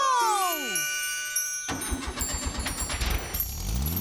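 A cartoon car starts up after a run of rising and falling whistly tones, then rattles and chugs steadily as its engine keeps running, fairly loud and alone.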